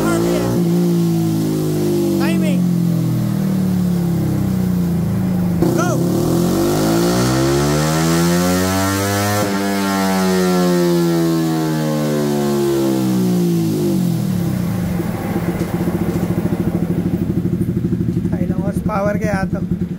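A Yamaha Sniper v3 motorcycle with a Proliner exhaust, running a stock setup, revs loud and close, its engine pitch climbing and falling in long sweeping runs, with voices faintly under the engine.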